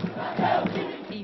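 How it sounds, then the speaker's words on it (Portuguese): Náutico football fans crowd outside the Aflitos stadium, a dense roar of many voices chanting and shouting together, steady and moderately loud throughout the brief moment. "Uma torcida acesa."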